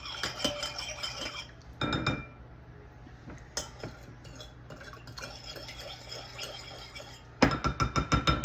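Utensils clinking and scraping against a bowl while stirring ingredients for a pork tenderloin and noodle dish, in bursts with short pauses, close by and no talking.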